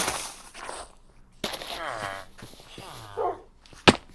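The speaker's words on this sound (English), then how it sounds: "I can hear him barking," Dog in the Minecraft video game barking several times from a short distance, the yelps mixed with short whimpers, a sharp clack near the end, and no clear talk over them.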